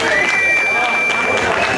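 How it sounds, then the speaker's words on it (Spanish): A crowd at a live music show in San Bartolo, Naucalpan, Mexico cheers and claps in a steady, dense wash, with a thin sustained whistle-like tone above. A voice talks over the crowd. "¡Aplauso para los naucalpenses!"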